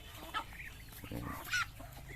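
Chickens on a small Philippine farm that also keeps ducks and turkeys, clucking in a couple of short, close bursts.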